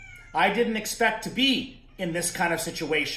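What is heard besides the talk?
kitten meowing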